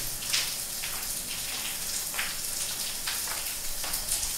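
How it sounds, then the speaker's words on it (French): Water runs steadily from a tap in a clinic, a soft continuous hiss with faint splashing, moderately quiet and alone without voices. "ferme le robinet."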